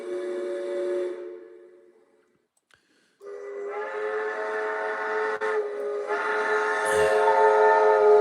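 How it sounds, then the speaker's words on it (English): A train whistle sounds as the train passes. A sustained harmonic blast fades out, and after a brief silence a louder, longer whistle starts and keeps building, with rail noise under it. "you can hear that train around the bend"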